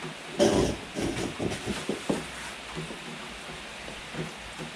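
Rain falls steadily on an evening in rural Thailand, a soft hiss with scattered louder splashes and knocks near the start, fading to a quieter patter.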